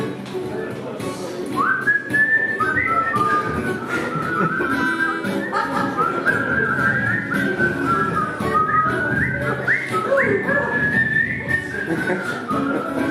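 Several people whistle a lively tune together, bright overlapping melodic lines carried over a murmur of background chatter and movement.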